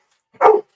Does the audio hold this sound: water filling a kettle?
no